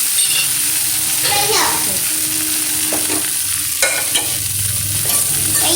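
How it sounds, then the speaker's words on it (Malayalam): Idli upma being stirred in a pan, with loud sizzling and repeated scrapes of a spoon against the pan, while a voice and other speech are heard in the background. "ഞങ്ങൾ ഇളക്കിക്കൊണ്ടിരിക്കുകയാണ്"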